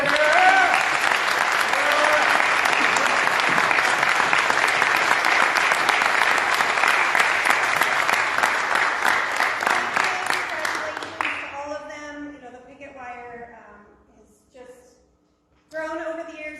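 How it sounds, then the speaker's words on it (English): Sustained crowd applause at a community theatre awards night in La Junta, loud dense clapping for about eleven seconds before fading, then people speaking and cheering briefly afterward. "Can we give them a round of applause?"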